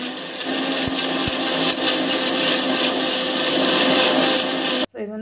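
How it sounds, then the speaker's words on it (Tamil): Mixer grinder whirring loudly and steadily as it grinds tomato and onion in a home kitchen, then cutting off abruptly near the end. "இது வந்து க்ளோஸ் பண்ணிட்டு மிக்ஸியில் போட்டு அரைச்சிக்கலாம்."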